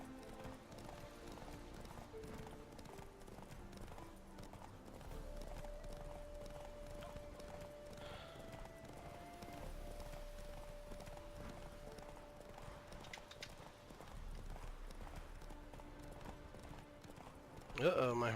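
Hooves clip-clop steadily through a horse race in a video game, sitting beneath ambient game sound and a tonal hum, with a sharper burst of noise at the very end.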